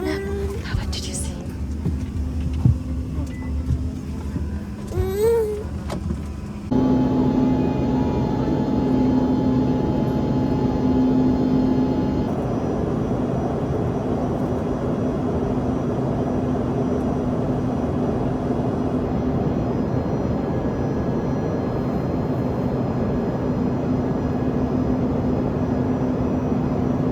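Steady loud airplane cabin drone during a flight, a continuous low engine hum filling the cabin, with a voice talking briefly at the start before the roar takes over.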